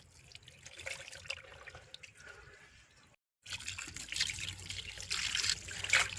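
Cleaned crabs get rinsed under running water, a soft trickling splash that cuts out briefly, then returns as a louder, brighter gush of tap water, close by with no voices.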